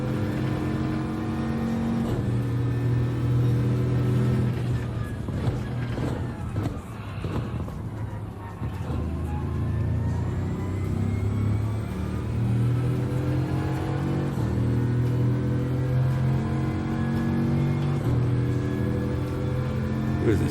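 Race car engine in a racing video game on a Yas Marina lap, droning and revving steadily throughout with rising and falling pitch as gears change, loud and continuous.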